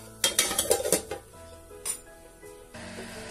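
A lid is set on a pot of zarda, sweet saffron rice, with a burst of close metallic clatters and rattles, then a single softer clank and quiet room hum; no speech.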